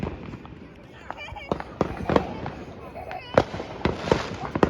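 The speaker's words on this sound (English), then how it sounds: "This is actually part two of the fireworks" Fireworks bursting at 4th Street in Chesterton, Indiana, a string of sharp cracks and thuds spread irregularly through the clip over a steady background, with people talking and calling out in between.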